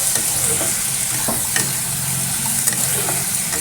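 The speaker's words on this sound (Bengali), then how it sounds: "সব একসাথে দিয়ে ভাজা ভাজা করছি" Loud, steady sizzling of vegetables and eggplant frying in a pan, with occasional stirring scrapes throughout and no talking.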